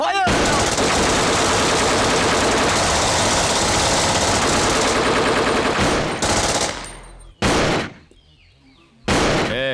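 Gunfire in a Hindi-dubbed South Indian action movie scene, a loud continuous burst of rapid automatic shots lasting about six seconds, then broken off by short, sharp bursts separated by silence.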